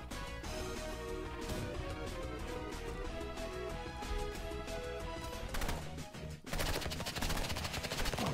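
Rapid gunfire from the Roblox shooter game Rivals, dense and continuous bursts of shots close up, running loud throughout with a brief dip before a fresh burst near the end.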